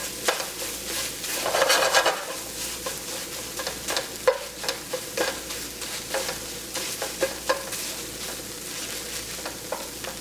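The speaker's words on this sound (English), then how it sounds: "stir it around a bit, and then we're done" Tofu scramble browns in a hot pan, a gentle sizzle broken by repeated spatula scrapes and light taps, some in quick bursts, close by with no speech.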